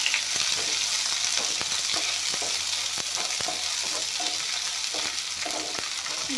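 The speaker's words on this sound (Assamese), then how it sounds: "এইখিনি এতিয়া ভাজি ল'ম" Onions and bay leaves frying in a pan, a steady close sizzle with scattered scraping clicks from stirring, even in level throughout.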